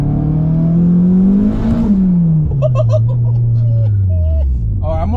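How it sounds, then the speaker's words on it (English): A turbocharged Honda CRX revs hard through first gear, its engine note climbing in pitch then dropping back, loud and close inside the cabin while people talk and laugh over it. "like after a certain RPM, the car just wants to go"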